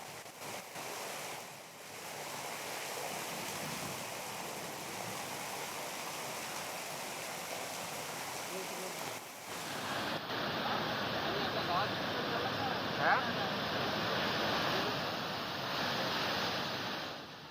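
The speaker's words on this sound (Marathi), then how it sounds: "पुलाची उंची कमी असल्याने पुलावरून पाणी वाहू लागलं।" Floodwater from heavy rain rushes across a low bridge in a steady, loud roar of churning water, joined by wind buffeting the microphone, and the flow swells slightly louder partway through.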